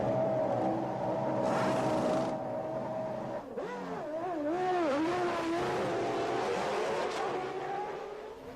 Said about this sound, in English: Michael Schumacher's Ford-powered Benetton finally managed to pass Senna's Ford-powered McLaren for the first time this season on track